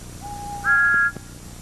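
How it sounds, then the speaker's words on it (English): Thomas the Tank Engine's train whistle, a short two-tone toot rising from a lower note to a higher one, clear and fairly close over a quiet background. "A new whistle will help Thomas to be heard"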